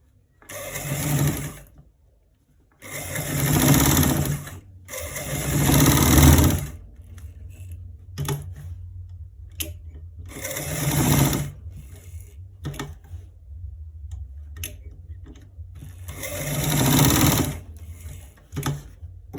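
Sewing machine stitching a trouser front pocket, running in repeated loud bursts of a few seconds each with short pauses between, close up and alone.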